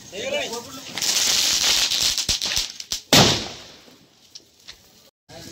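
A hissing fizz builds, then a single sharp Diwali firecracker bomb bang goes off nearby and fades into scattered crackles.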